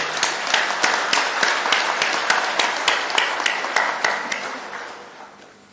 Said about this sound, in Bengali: সবাই মিলে আপনার জোরে হাততালি